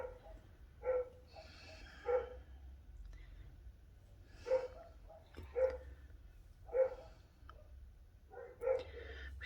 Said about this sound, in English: We've got all dogs in the neighborhood barking right now.